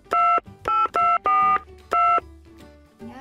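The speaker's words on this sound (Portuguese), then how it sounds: "Vou ligar pra elas." Five distinct telephone keypad dialing tones beep in quick succession, crisp and close, followed by a brief quiet stretch with faint background noise.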